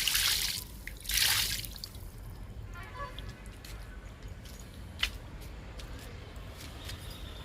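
Liquid fertilizer is poured in a small dose onto the moist soil of a potted fig plant, giving soft splashing bursts at the start and then quieter dripping and trickling close by.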